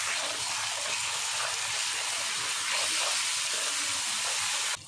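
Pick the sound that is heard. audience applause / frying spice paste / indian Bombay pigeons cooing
frying spice paste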